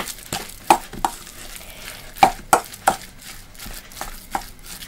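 Filling of onion, salt and raw egg being mixed in a bowl, with several sharp scraping and clinking strokes spaced irregularly, close and fairly clear against a quiet background.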